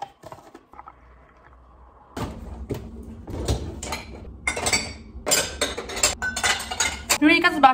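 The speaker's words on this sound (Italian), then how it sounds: "L'unica sbatta di queste ciotoline è che non vanno in lavastoviglie, quindi ora le lavo insieme alla friggitrice ad aria." Small bowls and air fryer parts are hand-washed at a sink, with clinking dishware, knocks and running water in busy close bursts after a quiet start.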